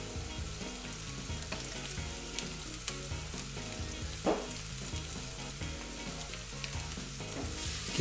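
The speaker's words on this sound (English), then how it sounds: "add some oil to a frying pan, add our onions. We can fry these up for a couple of minutes just to get them translucent." Onions sizzle steadily in oil in a frying pan, a continuous crackling fry with occasional stirring clatter, fairly soft and close with no talking.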